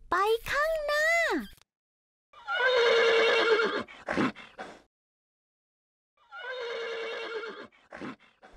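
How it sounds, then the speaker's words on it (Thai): A donkey brays twice in long, harsh, wheezing calls with a pause between, after a brief high-pitched voice at the start. "เสียงลาร้อง"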